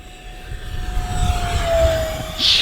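An Arrows T-33 50mm electric ducted-fan warbird jet on a 3S battery at full throttle, a loud steady whine that slides slightly in pitch as it passes overhead, with wind noise underneath.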